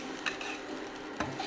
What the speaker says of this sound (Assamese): লাহেকৈ ইয়াতে ভাজি থোৱা চুজিখিনি মই ঢালি দিম আৰু চব্জিখিনিৰ লগত ভালদৰে মিক্স কৰি দিম।